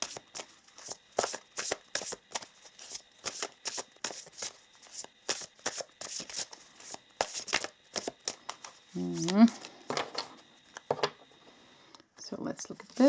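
Oracle cards being shuffled by hand in a long run of quick, papery riffling bursts, close and fairly soft, with a short stretch of speech near the end.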